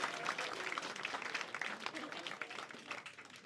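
A comedy club crowd claps and cheers as a comedian is brought onstage, a dense, steady burst of applause heard from within the room that tapers slightly near the end.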